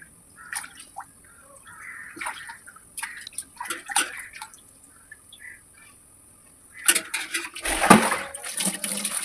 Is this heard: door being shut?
no